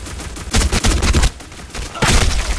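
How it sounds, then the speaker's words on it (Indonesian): Gunfire in the video game Black Squad comes as two close, loud bursts of rapid automatic shots, separated by a short lull. "tembak macam apa sih, bro Diki?"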